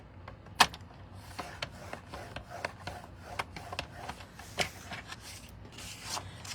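Paper being scored on a paper trimmer while making a full front accordion card: a quiet run of soft rubbing scrapes with scattered light clicks, one sharper snap near the start, with no voices.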